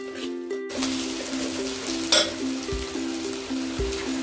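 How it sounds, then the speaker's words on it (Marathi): Raw onion frying in a little oil, a constant close sizzle with occasional stirring scrapes and a couple of soft knocks, over a low humming tone. "त्यानंतर थोडंसं तेल टाकून एक कच्चा कांदा भाजून घ्यायचा आहे।"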